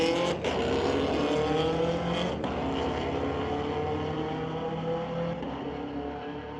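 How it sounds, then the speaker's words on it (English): A 2017 Camaro and a 2002 Infiniti launch side by side in a street-legal drag race at Mission Raceway, their engines roaring loud and steady, then slowly fading into the distance. "Chase Cranmore will once again bring up that 2017 Camaro, another regular for the Mopac Auto Supply Street Legals, facing off against Morgan Brandt in his 2002 Infiniti."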